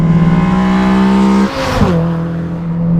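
A 2015 Honda Civic Si engine with bolt-on modifications drones loudly at steady revs, dips briefly as the throttle shifts, then settles back into a strong, close hum.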